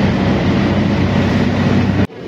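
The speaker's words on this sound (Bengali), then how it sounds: "পৌঁছে গেলাম হচ্ছে টাটানগর রেলওয়ে স্টেশন।" A train rumbles steadily and loudly at Tatanagar railway station, a dense low roar that cuts off abruptly near the end.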